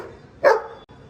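One sharp, close dog bark given on command stands out above a quiet background, with no speech during it.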